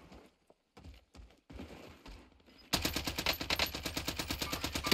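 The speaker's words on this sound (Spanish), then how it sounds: "Del monte disparan, ¿eh?" Gunfire in Call of Duty Warzone, a few scattered shots followed by a loud, sustained rapid machine-gun burst with evenly spaced rounds, close and alone.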